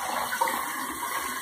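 A face towel dipped into warm water, giving a steady close splashing and sloshing of water for the whole short stretch, with no talking.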